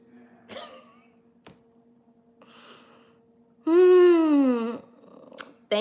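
A person coughs several times nearby, with sharp separate bursts followed by a long, drawn-out vocal sound, and quiet gaps between the coughs.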